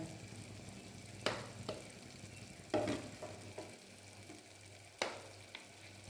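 Melted butter heating into ghee in a pan, a soft continuous sizzle with a few sharper clicks and stirring scrapes, quiet and close, with no one speaking.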